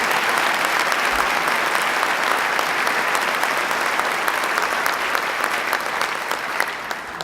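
Sustained audience applause for Howard Zemsky at a Buffalo event announcing a high-tech manufacturing complex, a dense, even roar of many clapping hands that holds steady throughout and eases only slightly at the end.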